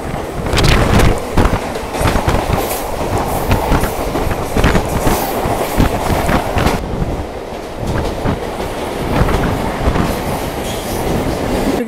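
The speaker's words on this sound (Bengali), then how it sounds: "যেখানে আমাদের ট্রেনের স্টপেজ রয়েছে।" Mumbai local train at Dadar station, a loud, continuous rattle of wheels and carriages with rhythmic clacking and brief squeals, steady throughout with no speech.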